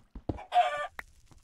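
A chicken in the video game Minecraft gives one short, close clucking squawk, with a few faint clicks before and after it.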